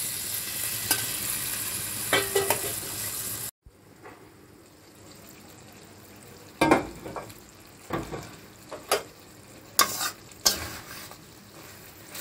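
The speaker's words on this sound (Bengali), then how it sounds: "এবার আমি বেগুন আর ভাজা পটলটা দিয়ে দেব।" Eggplant and fried pointed gourd go into a hot pan in a home kitchen, with loud sizzling and hiss at first, then a pause, then intermittent stirring scrapes and clatters over a soft simmer, without speech.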